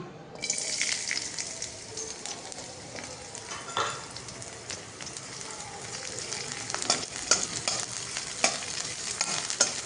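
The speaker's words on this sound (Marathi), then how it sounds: "मिरची परतून घेतोय." Green chillies sizzle and fry in hot oil in a kadhai while being stirred, a steady close hiss broken by scraping stir strokes, with no talk.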